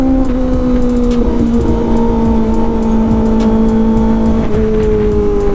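A Kawasaki ZX25R motorcycle engine revs up on the road, a loud, high, steady inline-four whine that climbs and holds in pitch, close and alone without any voices.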